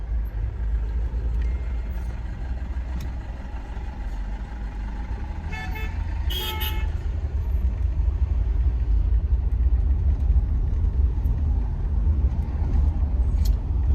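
Steady low rumble of a car idling and creeping in heavy traffic, with a brief burst of horn toots from nearby vehicles partway through and constant road-vehicle drone throughout.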